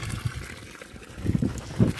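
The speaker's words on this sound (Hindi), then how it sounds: "यहाँ देखिए पानी, हिमाचल में ना पानी ऐसा मिलेगा, मतलब देखो वेस्ट हो रहा है कितना ज़्यादा है।" Cold snowmelt water runs down from the mountains in Himachal, a steady trickling, splashing flow heard close by with rough outdoor background noise.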